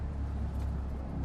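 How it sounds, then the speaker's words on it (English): An Aston Martin DB5 stunt replica, a carbon shell over a modern donor car, drives with a steady low engine rumble heard from close inside, constant and without voices. "So I'm actually driving a modern car that just looks and sounds like a DB5"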